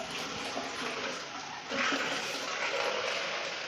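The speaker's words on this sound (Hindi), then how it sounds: "हम लोग पानी भी, बरसात का पानी इकट्ठा कर रहे हैं" Steady rushing rainwater pouring down during a rainstorm as it is collected, a dense continuous wash that swells louder partway through, close and without talk.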